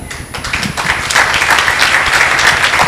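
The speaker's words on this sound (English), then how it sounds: "Let's give a hand of applause." An audience at a role-model talk session bursts into applause, clapping building quickly from a thin start into a full, loud, even round that holds to the end.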